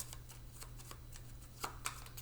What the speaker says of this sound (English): Tell you what, I'll give us just another quick little shuffle.